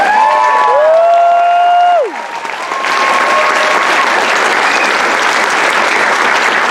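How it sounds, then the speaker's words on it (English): Loud, dense audience applause fills the space at a Pilipino Cultural Night show at Stanford University, with sustained clapping from a large crowd; a few tonal sounds fade out early before the clapping swells. "Please have a final round of applause"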